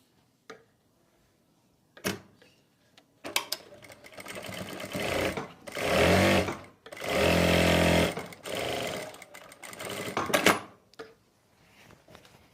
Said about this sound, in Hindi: यहाँ तक हमें मशीन चलानी है